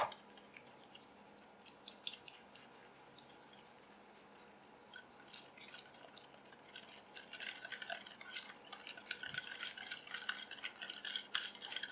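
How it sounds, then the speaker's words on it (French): A spoon stirs yogurt in a bowl, giving soft, faint scraping and light clinking that grows a little busier and louder over time, with no voices. "Je mélange."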